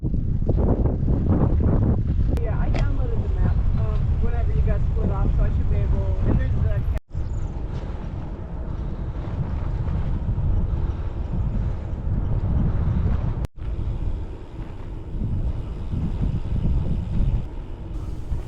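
A strong headwind roars across the microphone while cycling up a gentle climb in La Rioja, Spain, a loud continuous buffeting rumble with gusting swells, and a voice talks over part of it.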